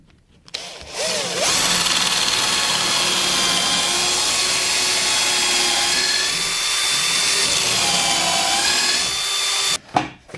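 A power drill whines steadily for about nine seconds as it bores into wood, loud and close, with a short burst as it stops.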